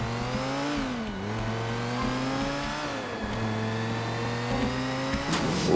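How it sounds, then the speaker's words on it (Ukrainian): A game car in GTA: The Ballad of Gay Tony accelerates hard under a nitrous boost, its engine whine climbing in pitch over and over as gears shift, loud and continuous. "набрати швидкість та застосувати закис азоту"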